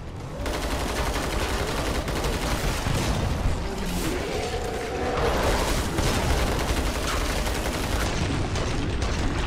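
Sustained gunfire in Killing Floor 2, a continuous roar of rapid shots and booms packed together without a break, loud and close throughout.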